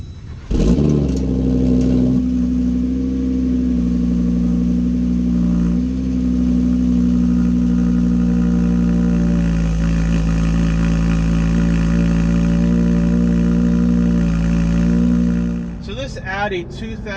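A 2018 Audi RS3's 2.5-liter turbocharged five-cylinder engine fires up and holds a loud, steady, low rumbling drone close by for about fifteen seconds, easing off at the end amid a few clicks.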